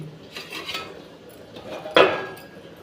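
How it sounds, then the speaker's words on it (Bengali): A metal lid is set back on a cooking pot of aloo posto with green chillies, a single clear clank near the end after soft scraping and rubbing sounds, close and moderately loud. "কটা কাঁচা লঙ্কা নিয়ে আমি ঢাকাটা আরেকবার দিয়ে দিচ্ছি"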